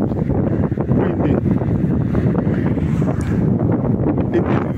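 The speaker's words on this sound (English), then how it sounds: "It is very, very windy out here today." Strong gusting wind roars steadily against the microphone outdoors on a walk along a town road in Luton, UK, a loud continuous buffeting that fills the whole stretch with no pauses.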